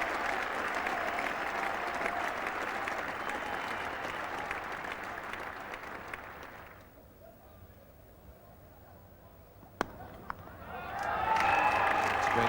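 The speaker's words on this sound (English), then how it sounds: "And the extra applause now for Gordon Greenidge, reaching 50 out of a total of 77." Cricket crowd at Lord's applauding a batsman reaching fifty in a Test match, sustained distant clapping that fades out midway, then a few sharp knocks and applause rising again.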